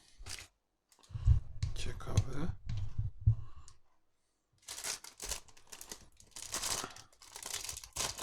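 Plastic bag from a LEGO Marvel Avengers advent calendar torn open and its pieces poured out, a run of close crinkling, tearing and clicking bursts with short pauses and quiet talk between them.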